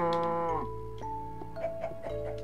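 A Minecraft cow, Xbox 360 Edition, gives a drawn-out, tonal moo, followed by a few shorter lowing calls over a steady low background hum, moderately close with no talking.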